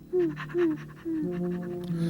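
A dog pants in quick, rhythmic breaths, close and fairly loud, in three short runs with a voice-like hum running under the later part.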